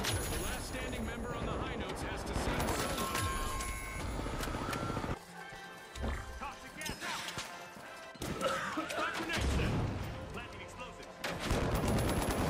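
Gunfire in the video game The Finals, bursts of shots, crashes and explosions layered over game effects, with a player talking over the action and a short lull in the middle.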